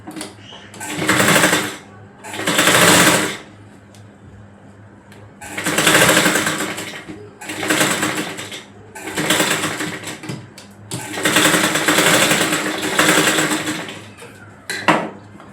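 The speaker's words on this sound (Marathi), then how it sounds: "आता या बाजूला सुद्धा शिलाई मारून" Sewing machine stitching the side seam of a frock for a five-year-old girl, running in several loud bursts of rapid needle chatter with short pauses between them, close up.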